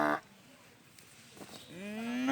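A boy imitates a buffalo mooing with his voice, a single drawn-out low moo that rises toward the end, heard close up outdoors after a short burst of other voice sound.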